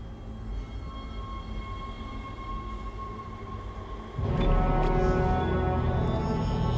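A tram rolls aboard the Ishimura spaceship in the video game Dead Space, a steady rail rumble and hum that grows suddenly louder and heavier partway through.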